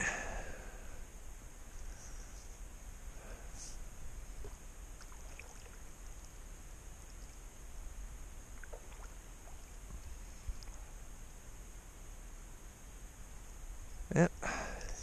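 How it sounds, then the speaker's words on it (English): Boat gliding on water along the Appalachian Trail route, with a steady broadband wash of water and wind throughout, a few faint knocks and splashes, and one sharper bump near the end. "I'm on a boat."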